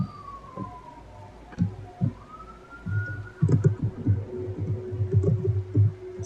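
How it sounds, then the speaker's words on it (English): Police siren wailing at a distance behind a muffled low rumble and scattered thumps, the rising and falling tone faint but steady throughout. "Siren sounds."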